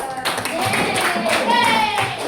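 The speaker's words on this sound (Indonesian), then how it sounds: "Tepuk tangan untuk kelompok 2" Applause from a group, a steady patter of many hands clapping throughout, with a faint tonal whistle-like sound running across it.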